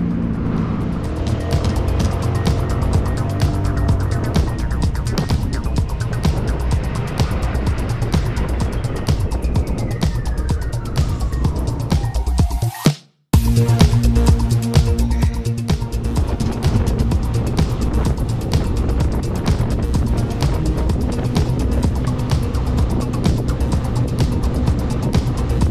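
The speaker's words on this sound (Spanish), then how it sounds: "Por ahora más esperar que pasen los carros." Vehicles on a desert highway near Barranca on the way to Lima, Peru, roaring past in a loud steady stream of engine and tire noise, with one car sweeping close by mid-way in a falling pitch before a brief dropout, then continuing.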